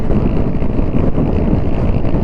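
A Suzuki Hayate motorcycle ridden at speed on a long road ride, heard as a loud, continuous roar of engine and rushing wind buffeting the microphone.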